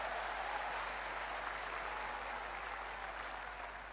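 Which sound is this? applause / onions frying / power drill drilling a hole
applause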